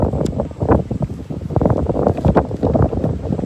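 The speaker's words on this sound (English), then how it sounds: "it's a bit windy now" Gusty wind buffeting the microphone in rumbling, uneven bursts, loud and close, with no clear voices, outdoors in Brisbane's Roma Street Parklands.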